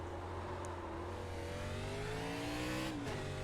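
An ARCA Menards Series race car in the iRacing sim at Sonoma Raceway revs steadily, its engine note climbing in pitch over a few seconds with a continuous, loud, up-close tone and no talking.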